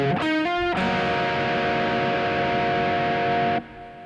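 Distorted electric guitar ringing out three open strings at the close of a riff, a few picked notes followed by a loud sustained chord that cuts off near the end, alone with no talk.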